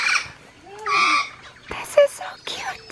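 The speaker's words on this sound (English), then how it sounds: "These are just wild parrots." Wild parrots squawk and chatter at an outdoor spot in Brazil, giving loud, harsh, rising calls in uneven bursts that sound close. Speech also seems to come through among the calls.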